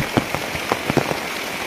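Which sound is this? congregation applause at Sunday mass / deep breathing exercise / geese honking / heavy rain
heavy rain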